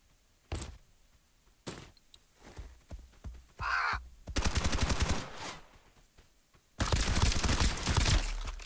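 AR rifle fire in the video game Escape From Duckov, with a few single sharp shots early on and then two dense bursts of rapid automatic fire, loud and close, with no talking.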